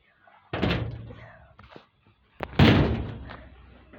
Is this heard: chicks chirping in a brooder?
no